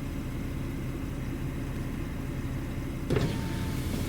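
A car's electric window motor whirs steadily, then a brief clunk near the end as the glass stops, followed by a fainter hum.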